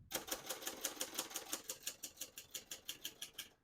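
Rapid typing on a 1970 Hermes Media 3 portable typewriter, a steady run of close, crisp key strikes at an even clip with no voices.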